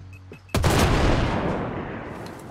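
A video-game explosive barrel detonates beside a tank, a sudden loud boom that erupts after a quiet moment and rolls on as a long, broad rumbling roar slowly fading over a couple of seconds.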